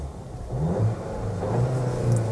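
A 2025 Škoda Octavia RS 2.0 TSI with DSG gearbox fires up and revs, a low mid-pitched growl rising and settling, heard close with no talking.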